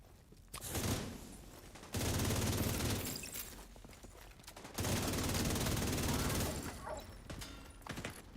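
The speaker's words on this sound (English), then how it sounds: "Who's shooting at me?" Gunfire in the shooter The Division 2: two long, sustained bursts of automatic fire, loud and dense, separated by quieter stretches with scattered shots and scuffles.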